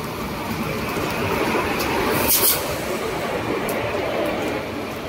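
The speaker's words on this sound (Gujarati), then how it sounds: "તો દોસ્તો આપણી ગાડી કર્ણાવતી આવી ગઈ છે।" The Karnavati Express pulls into a station platform with a continuous low rumble of rolling coaches and a brief brighter screech midway, steady and fairly close amid busy platform noise.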